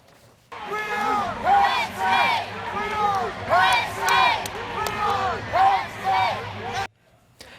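A large crowd at the Tournament of Roses Parade in Pasadena, California, cheering and shouting in repeated rising waves, loud and sustained before cutting off abruptly.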